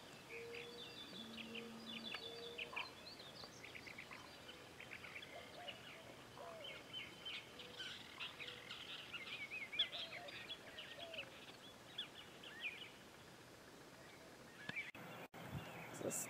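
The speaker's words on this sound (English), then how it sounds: "those birds are fishing this morning" Faint birdsong and scattered chirps carry across a lake at Possum Kingdom State Park in early morning, distant calls repeating over a quiet ambient background with no talking.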